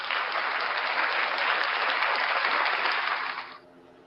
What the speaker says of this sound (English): Ladies and gentlemen, round of applause for Ray.